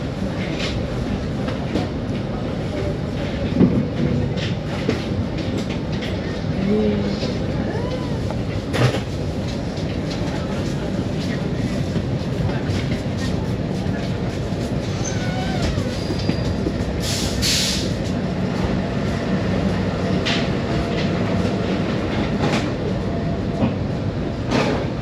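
Aboard the Argo Merbabu passenger train out of Semarang Tawang, a steady loud rumble of wheels on rails runs throughout, with faint clicks and a brief high squeal partway through.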